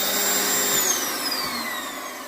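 Arçelik electric vacuum cleaner running after a power switch repair, a loud, steady high whine with a pitch that shifts slightly over its short duration, heard close by with no talk.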